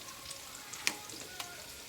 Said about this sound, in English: I'm going to let the salmon finish cooking